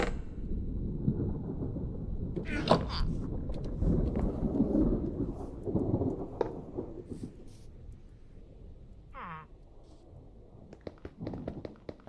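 Thunderstorm in Minecraft: a low, rolling rumble of thunder swells and fades over several seconds, with crackling bursts and steady rain-like hiss, no voices.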